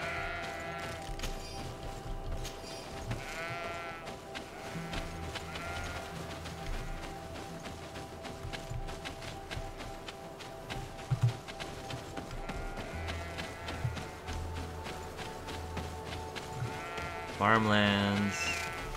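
Sheep bleat in the farmlands of the video game Greedfall, a few moderately loud calls over continuous game ambience and music, with a louder bleat near the end.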